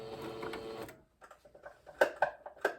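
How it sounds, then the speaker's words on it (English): Short bursts of a sewing machine running, a steady mechanical whir followed by a pause and several quick stuttering stitches, close by. "Sewing machine."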